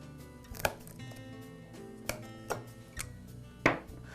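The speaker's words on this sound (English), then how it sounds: "cut the hose with either a knife or, in this case, a pair of heavy-duty wire cutters" Heavy-duty wire cutters snip through rubber air hose on a Porter Cable air compressor, giving several sharp, close cutting snaps spaced irregularly over a quiet background, with no talking.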